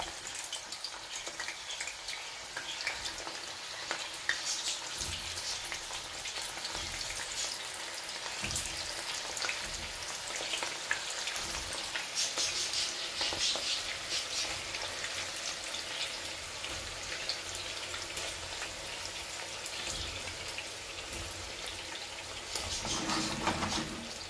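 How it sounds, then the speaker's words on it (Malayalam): Hand-rolled kofta balls frying in hot oil, a constant close sizzle with scattered crackles and pops, heard alone with no talking. "അപ്പൊ ഇനി നമുക്ക് ഈ ഉരുട്ടി വെച്ചതൊക്കെ പൊരിച്ചെടുക്കാം"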